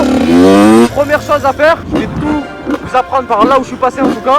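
A motorcycle engine revs up for about a second, then someone talks steadily while faint engine noise lingers underneath, in a wheelie-riding lesson.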